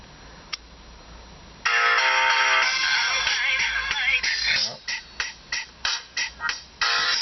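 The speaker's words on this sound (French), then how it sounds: "Donc je vais avoir ma chanson préférée." A favourite song plays through the small built-in speaker of a Xiaomi MI-ONE C2000 phone, loud and tinny, starting abruptly after near silence and ending in choppy, pulsing fragments.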